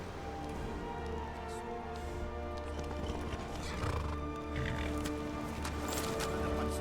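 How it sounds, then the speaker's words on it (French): A horse in the video game Skyrim neighs loudly while its hooves clip-clop in a quick galloping rhythm, the whinny rising over a dense, steady layer of game audio. "Et là du coup je vais prendre mon cheval."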